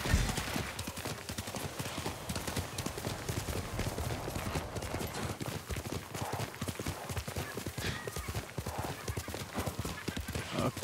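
Horse hooves clip-clop steadily at a walking pace in the video game Ghost of Tsushima, moderately loud under someone talking.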